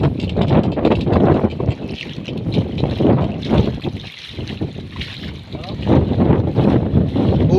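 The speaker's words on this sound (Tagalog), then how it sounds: "Lakas ng hangin." Strong typhoon wind roars and gusts against the microphone on a flooded bayside, with water sloshing nearby and a voice talking underneath.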